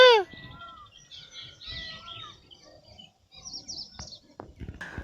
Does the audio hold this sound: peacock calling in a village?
yes